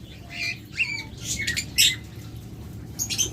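Yellow-collared lovebirds, a breeding pair at a bird seller's, give scattered shrill squawks and chirps, several sharp bursts over a constant low room hum at moderate distance.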